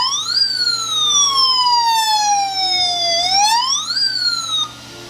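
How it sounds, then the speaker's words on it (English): Toy siren from an HBX 2997a remote-control car, switched on by the remote: a loud electronic wail sweeping down slowly then up again over about five seconds, close and alone with no talking. "hooked up to my channel 5 with the remote, is a siren"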